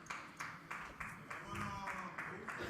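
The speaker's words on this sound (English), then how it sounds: "And you heard the clap," Friends at a live poker tournament final table clap in a slow, even rhythm of about nine claps, under talk and background noise.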